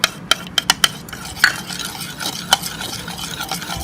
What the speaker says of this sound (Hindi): इसमें एक घी शामिल कर लेंगे और इन्हें अच्छी तरह से मिक्स कर लेंगे और अंडे को भी हम फेंट लेंगे अच्छी तरह से।